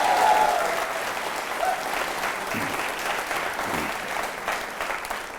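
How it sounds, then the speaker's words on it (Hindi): An audience at a teachers training college quiz show breaks into sustained applause, a dense, even patter of many hands that stays fairly loud throughout, with a faint voice near the start. "तालियां बजाइए उस महान व्यक्तित्व के सम्मान में आप।"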